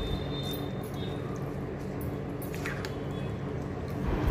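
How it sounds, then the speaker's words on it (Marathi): A spoon mixing cucumber salad dressed with a mustard-seed tempering, heard as soft wet squishing and scraping at close range, steady and moderately quiet throughout, with no talking. "आता सर्व चमच्याने मिक्स करून घेते"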